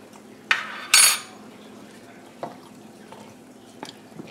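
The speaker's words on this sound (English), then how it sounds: "Let me grab another spoon" A metal spoon picked up from among kitchen utensils while making a warm caramelized onion dip, a sharp clatter and bright scrape up front, then soft scattered clinks and taps fading out.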